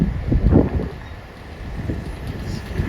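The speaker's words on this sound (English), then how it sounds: "It's windy" Wind gusts buffet the microphone near a bridge in Florianópolis, low rumbling bursts that swell early, ease off and return, with faint voices underneath.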